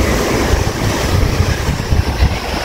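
Sea waves break and surge continuously on a rough day along the coast at Chania, loud and close, with wind buffeting the microphone and no one talking.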